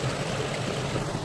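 Water runs through a small drain in a steady, close, continuous gurgling rush with no pauses.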